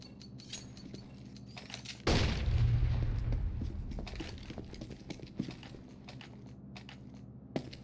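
Grenade explosion in the video game Operation Wildfire, a sudden heavy boom that erupts after a quieter stretch and decays over a couple of seconds, with sparse gunfire-like pops around it.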